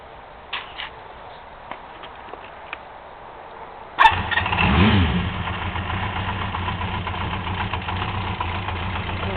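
1975 Honda CB400F motorcycle engine cranks and catches after a few faint clicks, then settles into a steady, even low idle, close and clear.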